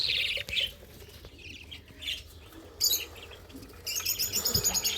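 Albino and lutino pet bird chicks in a small breeding colony give high, thin chirps close by. Short bursts at the start give way to a fast, rising run of peeps at the end.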